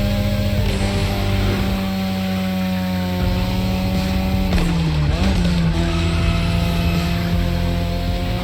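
A BMW M5 Drift Edition drifts in The Crew Motorfest, its engine holding a loud, steady sustained roar with pitch dips and rises through gear shifts, tire scrub underneath, up close and with no talking.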